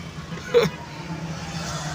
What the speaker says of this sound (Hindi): चूँकि छुट्टी का टाइम है तो ट्रैफिक खुला बदमाशी कर रही है